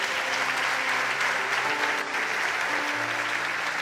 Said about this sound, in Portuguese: Dá um aplauso para Jesus se você acredita nisso